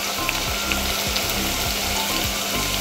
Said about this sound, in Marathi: याला तेल सुटतपर्यंत छान परतून घेतलं आहे